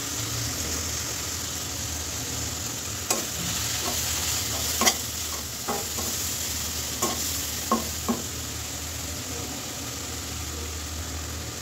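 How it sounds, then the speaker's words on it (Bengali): Ground spices with salt and turmeric are stirred in a hot frying pan while cooking khichuri, a steady close sizzle broken by a handful of sharp spoon scrapes and taps against the pan. "এবার আমি গুঁড়া মশলাগুলো অ্যাড করে দেবো। এখানে দিচ্ছি লবণ, হলুদ"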